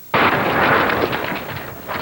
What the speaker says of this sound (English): Iraqi gunners had fired an artillery shell directly at our convoy